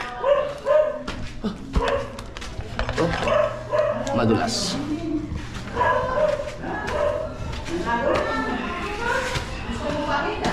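Ringo, a pet dog, yips and barks in short repeated bursts close by, mixed with people talking and laughing over the barking.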